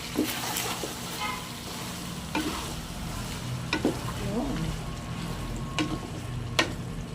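Tomato paste being stirred into pork menudo in a hot pan, with a steady low sizzle and scraping stir strokes, plus a few sharp clicks of a utensil against the pan.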